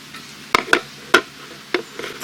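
Potatoes being moved around in a little oil in a pan on a rocket stove, a few sharp close scraping and clacking taps of a utensil over a faint background sizzle.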